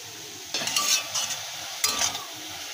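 Powdered spices (turmeric, chilli, cumin, coriander and fennel) being stirred in a pan for a vegetarian curry, with two bursts of scraping, sizzling stirring over a low background hiss.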